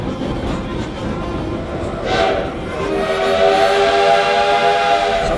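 A Canadian steam locomotive on a short loop railway blows a sustained multi-tone whistle that swells halfway through, heard over general rumble and faint outdoor noise.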